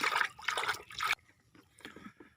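A bucket of water is poured onto potted garden plants, giving a loud splashing gush for about a second, then fainter trickles and drips.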